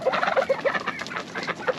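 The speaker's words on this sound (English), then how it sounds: "Here's all my chickens." Chickens on a homestead clucking close by in quick, repeated bursts, several birds calling over one another.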